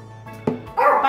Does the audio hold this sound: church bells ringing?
no